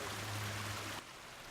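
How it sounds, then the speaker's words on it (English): Garden biofall waterfall splashing into a backyard fish pond, a steady close rush of falling water that drops lower for the last half second. "This waterfall and pond is a closed system, so that water is constantly being recycled"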